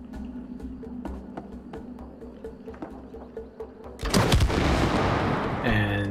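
Rapid shooting of sap in It Takes Two: a steady run of sharp, evenly spaced popping shots over game background sound, followed by a louder, broad splashing burst near the end.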